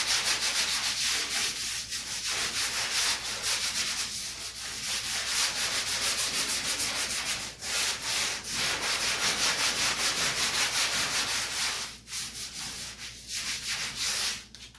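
Abrasive scuffing on the steel inner fender of a 1951 Chevy, roughing the metal before putty goes on. The rasping strokes run steady and close for the whole stretch, with a couple of brief breaks.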